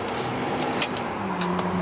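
Keys jangling close by inside a 1968 Lincoln Continental lowrider, a short bright metallic rattle with a few clinks, heard alone.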